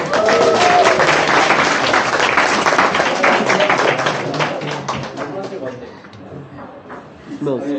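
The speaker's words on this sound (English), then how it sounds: "Give a round of applause for everyone who's leaving" Room of Enactus club members at a farewell meeting clapping for departing members, dense applause strongest at first and fading toward the end, with chatter and voices mixed through it.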